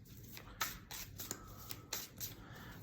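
Oracle cards are shuffled by hand at close range, giving soft papery riffles and slaps in an irregular rhythm over faint background hiss.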